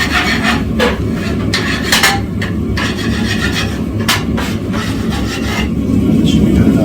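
A wire brush scrubs steel stock clean in preparation for forge welding, giving a steady, close scratchy rasp with repeated strokes throughout.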